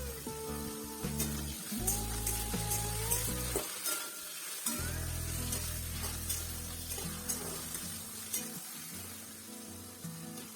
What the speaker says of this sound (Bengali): এইগুলো সবগুলো ভাজা হয়ে গেলেই তখনই তার মধ্যে ম্যাগিটা দিয়ে দিব নিয়ে নেড়ে ছেড়ে তারপরে প্রান্তিককে ফোন করব